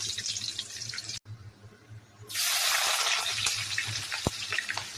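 Half-boiled potato fries in hot oil, starting with a low sizzle, then a brief pause, then a sudden loud burst of crackling frying that continues steadily to the end.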